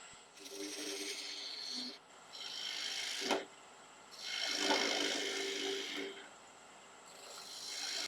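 A woodturning tool rasps and scrapes against a small live edge birds mouth wood vase spinning on a lathe, shaping the opening in several rough passes with a sharp knock midway, fairly quiet and close.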